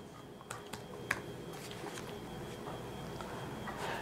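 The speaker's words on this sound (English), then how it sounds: "So let's type it in." Fast typing on a Chromebook keyboard: a run of quick, light key clicks at close range with a few sharper taps, over low background hum and no talking.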